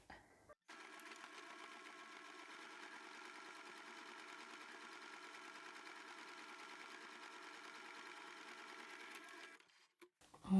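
A sewing machine runs steadily for about nine seconds, stitching pleats into fabric, with a constant mechanical whir that starts and stops abruptly.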